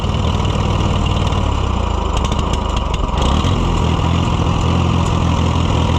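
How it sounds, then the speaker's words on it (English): A VAC Case tractor engine running with the choke pulled all the way out after carburetor adjustment, a loud, steady, rough chugging drone that holds throughout. "Now we got to run it with the choke all the way out?"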